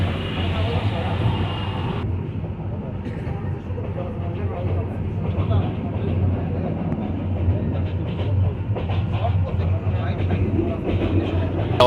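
Passenger train racing through open haor wetlands at dawn, a continuous close, even rumble of wheels and carriage noise holding steady throughout with no speech.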